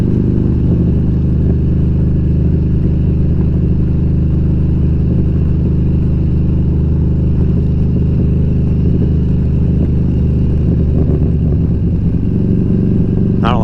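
A motorcycle engine idles loud and close, running rough after a map sensor change, with a heavy uneven rumble that continues without a break and a faint voice underneath.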